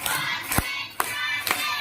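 An audience claps in a counted rhythm, sharp hand claps spaced about half a second apart over a faint background murmur.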